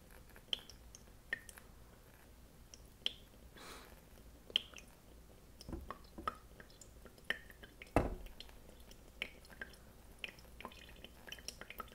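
Hot water dripping through a Cores Gold metal coffee dripper, heard as soft, irregular drips and small splashes, faint and close, spaced every second or so in a quiet room.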